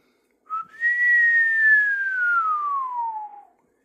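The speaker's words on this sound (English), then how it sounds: "I whistle nicely when I call the deer" A person gives a single long, shrill whistle to call deer. It starts with a brief rising chirp, then holds a sustained tone that slowly slides downward for about three seconds. The whistle is close and clear against silence.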